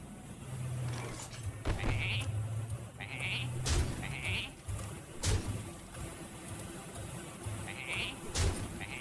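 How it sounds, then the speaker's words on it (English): Several sheep bleat in a video game, short nasal calls recurring every second or two over a steady low engine-like hum and occasional thumps, fairly close. "a whole bunch of sheep just down there"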